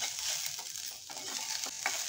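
Onion, coconut, garlic and ginger sautéing in a pan, a short burst of steady frying sizzle with light stirring, quiet and with no talking.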